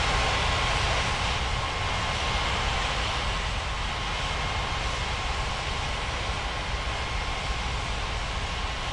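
An airliner approaches to land at Ngurah Rai Bali International in an air traffic control game, heard as a steady, loud, broadband engine roar that holds constant throughout with no talking.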